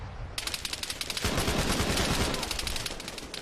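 Rapid, loud automatic gunfire in the military shooter game Arma 3, a dense string of sharp, closely spaced shots that intensifies partway through and keeps firing to the end, with no talk.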